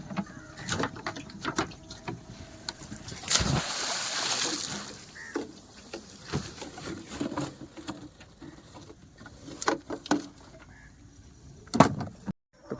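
A fishing net being cast into water in Odisha, with a loud splash and scattered slaps, patters and drips as the net hits and settles, among sharp knocks and outdoor background noise.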